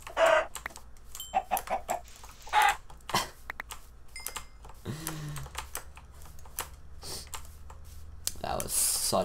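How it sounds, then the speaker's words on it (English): Chicken clucks in a video game come in short, bright bursts scattered across the scene, mixed with busy keyboard clicking and someone talking over them. "That's a chicken!"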